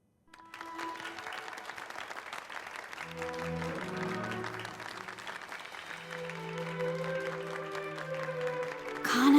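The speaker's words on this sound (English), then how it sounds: "Give a round of applause to this young and talented singer" Steady applause from a crowd for a singer on stage in the video game The Centennial Case: A Shijima Story fills the scene, with soft synthetic music tones underneath and a brief rising chime at the end.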